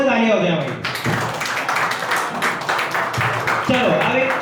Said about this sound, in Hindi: एक बार सकले जोर से तालियां हो जाए भाई